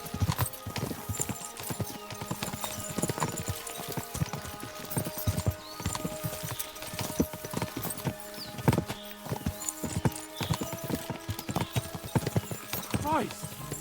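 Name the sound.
horses galloping, hooves clip-clopping, in video game Kingdom Come Deliverance 2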